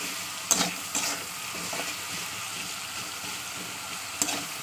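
Sliced potatoes and bitter gourd stir-frying in a pan over high gas flame, a steady soft sizzle broken by a few sharp scrapes of the spatula, close and without talk.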